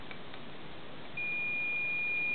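A battery tester sounds a steady electronic beep once aluminium and graphite contacts of a homemade dry cell touch, starting partway through and holding a single continuous tone over quiet background hiss.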